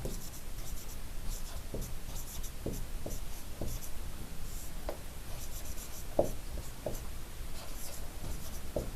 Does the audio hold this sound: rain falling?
no